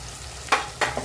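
Turmeric and Agri Koli masala stirred into hot oil in a pan give a soft continuous sizzle broken by two or three quick spoon scrapes, close and alone.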